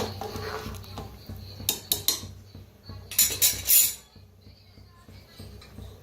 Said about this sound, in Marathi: एकदा मिक्स करते.